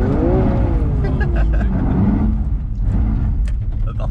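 A car engine held at full throttle while drifting on the banked Montlhéry ring during the Tour Auto 2020, a loud, close, continuous roar whose pitch swells and falls, with voices talking over it.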